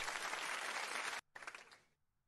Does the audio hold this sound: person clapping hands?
yes